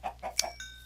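In Minecraft Tekkit, a chicken gives a few quick, soft clucks in under a second, followed by a short chiming tone over a low hum.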